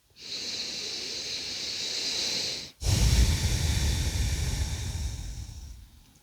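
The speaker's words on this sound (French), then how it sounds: "Pour au moins une respiration complète." Slow, deep breathing during a yin yoga session in the fetal pose, heard close and soft: a long hissing inhale, a short pause, then a fuller, breathier exhale that gradually fades.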